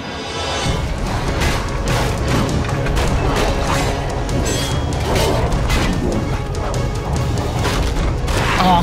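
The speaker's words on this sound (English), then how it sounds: "Oh, corpse explosion." Heavy, continuous rumbling blasts and crashes from a corpse explosion in Dragon Age, with repeated booming impacts from game combat sounding loud and dense throughout.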